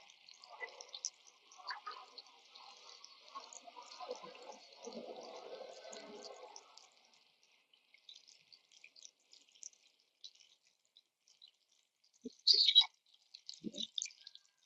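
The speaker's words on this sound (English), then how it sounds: "So I'm doing a water change of the 100-gallon." Water trickles, drips and splashes softly during a water change on a 100-gallon aquarium, with faint gurgling and occasional clicks and taps, quiet and close.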